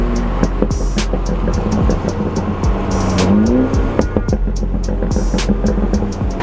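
A BMW F30 M235 idles with a deep, rumbling exhaust, broken by repeated sharp crackles and pops of burble that continue close and loud throughout, on a cool day in North Carolina.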